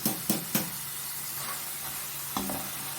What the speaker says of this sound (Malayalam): അവിടെ കിഴങ്ങെല്ലാം നല്ലപോലെ കിലുകില സൗണ്ടോടുകൂടി മൂത്തിട്ടുണ്ട്